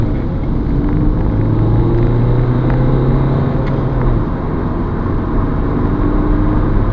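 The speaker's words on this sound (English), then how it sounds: "Okay, Peugeot 308, 0 to 60 test, conditions are dry." A 2010 Peugeot 308 HDi diesel with five-speed manual accelerates hard on a dry road, a loud continuous engine drone heard from inside, with a rising pitch that drops at a gear change around four seconds.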